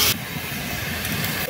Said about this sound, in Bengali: ভেজা থাকলে তার বাষ্প বের হয় পেছন থেকে